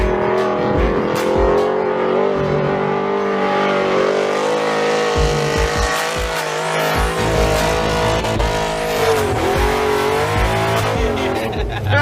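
Muscle car fitted with bogger tires revs hard off-road, a loud sustained engine roar with rising and falling throttle as the tires dig in, steady and close throughout.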